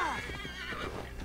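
A horse whinnies and its hooves clip-clop in the video game Assassin's Creed Valhalla, a loud, close neigh at the start followed by quick galloping footfalls over a little more than a second.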